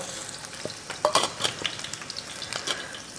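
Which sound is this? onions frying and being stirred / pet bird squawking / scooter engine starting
onions frying and being stirred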